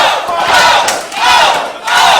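A wrestling arena crowd roars and cheers loudly for a favorite wrestler during a championship match, a dense, sustained wall of shouting voices that swells, dips briefly, then surges again.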